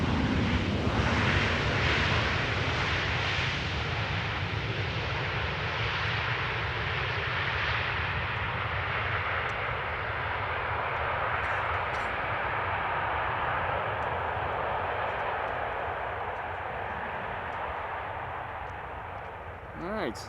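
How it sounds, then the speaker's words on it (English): A Boeing 737 arriving from London Heathrow lands at Amsterdam Schiphol, its engine roar a broad, steady rumble that lingers from a distance and fades slowly, with wind buffeting the microphone throughout. "(737) arriving from London Heathrow, and a little wheelie from the pilot."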